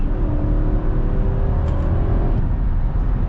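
A 2022 Nissan Armada Midnight Edition with a 7-speed automatic, heard from inside while driving as a steady low engine hum and road rumble, continuous and fairly loud.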